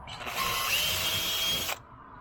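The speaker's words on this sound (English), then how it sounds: "I'm going to drill these other holes out." A power drill bores holes into a kayak hull to fit a flush-mount rod holder, one steady high-pitched whine of about a second and a half rising over quiet room tone and then cutting off abruptly.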